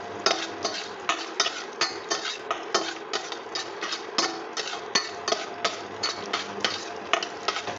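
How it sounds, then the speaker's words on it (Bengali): Garlic and black cumin frying in a pan over low to medium flame, a close, steady sizzle broken by regular scraping and stirring strokes against the pan, roughly two per second, with no talking. "রসুনটা ভাজা হচ্ছে"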